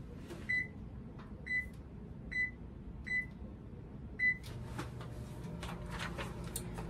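An oven's control panel gives five short, evenly spaced electronic beeps while being set to 350, then faint kitchen handling noises follow.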